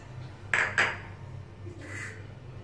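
Spices for nargisi kofta being mixed in a bowl: two sharp clinks of a spoon against the bowl, then a softer scrape, close and quiet with no speech.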